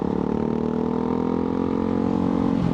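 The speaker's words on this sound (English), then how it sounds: "This one has a titanium exhaust, and that thing is really loud." Ducati Hypermotard 698 Mono single-cylinder motorcycle with a loud titanium exhaust, running at a steady, throbbing engine note close by for the whole stretch, with no talking.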